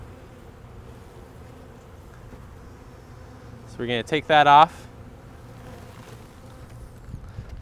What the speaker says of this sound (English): there's a lot of honeybees around me, but a lot of these little yellow jackets.